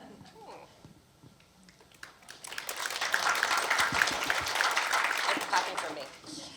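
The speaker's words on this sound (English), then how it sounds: "Clapping for me." Faint background sounds give way to a burst of applause from a book panel audience that swells and holds for several seconds before tapering off.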